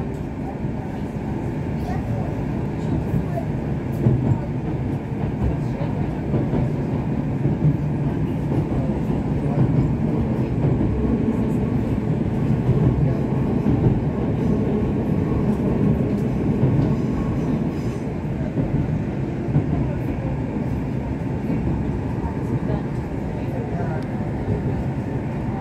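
A loud, continuous Moscow metro train rumble with steady rolling noise and whine throughout, heard from inside the car between Fili and Kiyevskaya stations.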